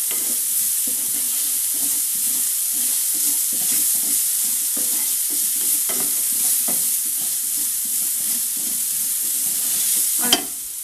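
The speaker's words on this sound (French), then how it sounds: "Je viens bien gratter le fond pour faire sortir les épices qui sont collées." A utensil scrapes and stirs across the bottom of a frying pan to loosen stuck spices, repeated rhythmic scratches over a steady sizzle, ending with a sharp knock.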